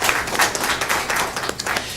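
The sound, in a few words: audience applause at a city council meeting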